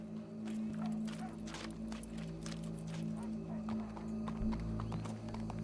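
Rhythmic clip-clop of horse hooves with a brief whinny in the video game Red Dead Redemption 2, over a steady low musical drone and faint background voices.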